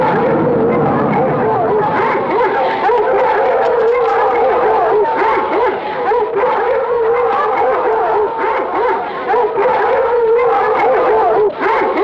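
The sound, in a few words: pack of hounds baying and howling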